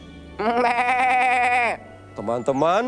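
A long, wavering goat bleat rings out loudly, followed by a brief spoken word after a short pause.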